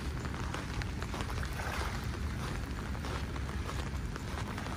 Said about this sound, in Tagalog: kasi maulan nga po